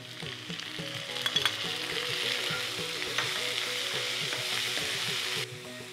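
Chopped tomatoes and onion fry in hot oil for vegetarian kheema: a steady, close, dense sizzle with light stirring clatter throughout, no talking, before the hiss drops away abruptly near the end.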